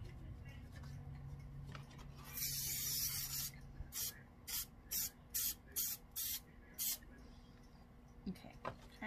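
Spray can of craft glue misting in short bursts: one long hiss, then several quick separate sprays close by, with faint talk around them.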